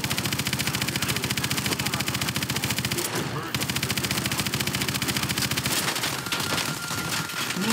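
Rapid, sustained automatic fire from a vehicle's main gun in the video game Call of Duty Advanced Warfare, loud and close, with a dense rhythmic stream of shots that pauses briefly near the middle before resuming.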